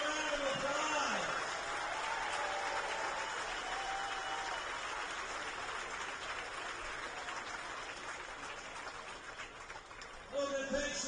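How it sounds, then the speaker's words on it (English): A baseball crowd on fan appreciation night applauds the team's promo guy, sustained clapping spread across the stands that slowly thins out, with a public-address voice at the start and end. "let's give him a round of applause"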